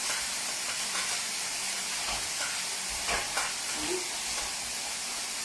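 Chicken and broccoli frying in a pan with teriyaki maple sauce, steady sizzle with soft scraping stirs, close and moderately loud, continuous throughout.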